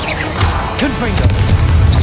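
A fiery Confringo blasting spell detonates in a wizarding action video game, giving a dull boom inside dense, continuous battle noise, with brief voice-like sounds mixed in.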